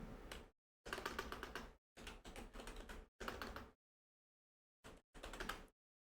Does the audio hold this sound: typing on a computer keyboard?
yes